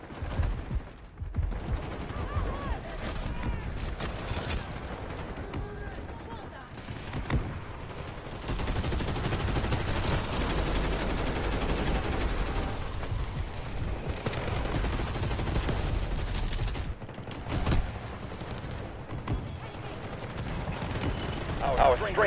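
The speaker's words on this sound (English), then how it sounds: "Artillery barrage incoming." A video game artillery barrage rumbles as a sustained roll of distant booms and gunfire-like bursts, with a brief lull midway before the heavy rumble resumes.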